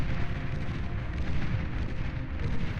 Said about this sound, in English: Medium tanks blasted asunder by the tail cannons here of the Hounds